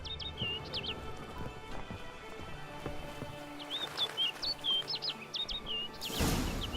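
Repeated chirping bird calls from a Witcher 3 bird, a short burst near the start and a quicker run later, set over steady game ambience that ends in a loud noisy swell.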